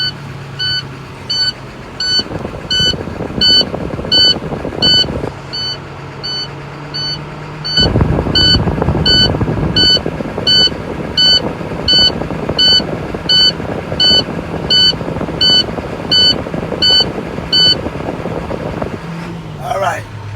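Warning buzzer in a truck cab during a CDL class B pre-trip inspection, beeping in a fast steady repeating pattern over engine hum, loud and close, stopping near the end; a voice talks briefly partway through.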